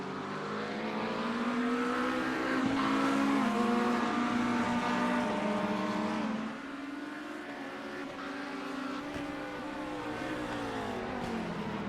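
A Corvette GT3 race car engine howling at high revs around the Nürburgring GP circuit, a loud, close, steady whine that climbs through the gears, drops sharply once and then pulls again.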